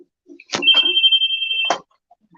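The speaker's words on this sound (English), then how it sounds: "You hear that buzzer going off?" A door entry buzzer sounds at a medical delivery: a short click, then one steady electronic tone holding for about a second before cutting off, loud and close, with nobody talking over it.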